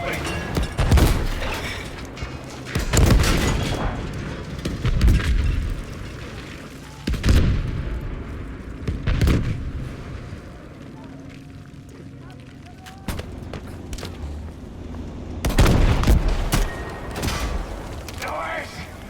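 Rockets and forward cannon fire in a video game: a run of sharp booms and bursts, spaced irregularly with short quiet gaps between them, while excited voices talk over the action.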